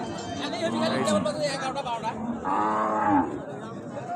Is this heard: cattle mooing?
yes